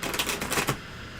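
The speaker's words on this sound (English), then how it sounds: "I'm going to do one more shuffle." Tarot cards are shuffled in a quick riffle of rapid, crisp flicks for under a second, close and fairly loud, then stop into quiet.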